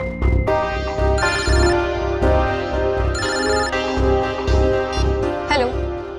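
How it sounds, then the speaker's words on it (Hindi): A loud telephone ringtone plays on its own, a bright melodic electronic ring pattern repeating steadily with no voices. "मैं अभी नम्रता को फोन करता हूँ।"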